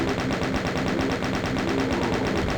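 Rapid, continuous gunfire from the Doom 2 video game, a dense stream of shots with no pauses, loud and steady throughout, with no speech.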